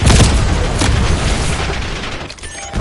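A frag grenade explosion in Call of Duty Black Ops on the Nuketown map, a loud, close boom with a dense rumbling tail that carries on for nearly three seconds before easing slightly.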